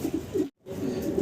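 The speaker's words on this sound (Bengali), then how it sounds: "পেন্সিল পটার অনেকদিন পর চমৎকার একজোড়া কবুতর দেখাচ্ছি" A pencil potter pigeon gives a brief low coo, cut by a short silent gap and followed by another soft coo, close by.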